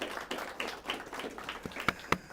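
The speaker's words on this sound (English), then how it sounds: "Our judges, give them a round of applause." Audience applause for the judges at a La Feria versus Weslaco student competition, a fairly quiet scattered patter of clapping with a few sharper individual claps standing out near the end.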